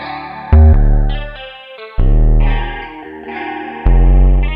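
Synth sub bass programmed in GarageBand on iOS for a trap-style beat plays three long sustained notes with glide, each starting with a loud attack and slowly fading, heavy and distorted, alone.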